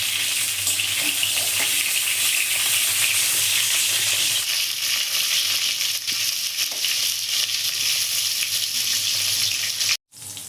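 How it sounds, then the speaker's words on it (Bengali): Pointed gourd pieces fry in hot oil in a pan while being stirred, a loud, steady close sizzle with occasional scraping of the spatula, ending in a brief cut near the end. "এবার আমি তেলে পটলগুলো দিয়ে দেবো এক এক। এবার আমি পটলগুলো নেড়ে নেব।"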